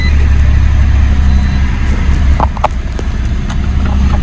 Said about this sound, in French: Là, je vais démarrer ma voiture. Donc là, je démarre ma voiture.